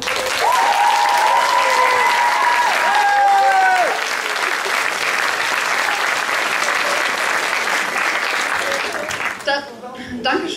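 Concert crowd at a youth song contest applauding its host Pamela, a loud, sustained roar of clapping with cheers and whistles, thinning near the end as a voice begins to speak.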